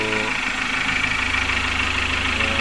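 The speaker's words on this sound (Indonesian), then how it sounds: "alhamdulillah untuk mesinnya langsung hidup" A car engine idles steadily right after starting, following a cylinder head overhaul, with a constant mid-pitched running drone and faint knocking texture and no breaks.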